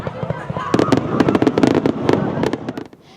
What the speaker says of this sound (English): It's that time of year again when fireworks light up the night sky and create beautiful displays for people to watch.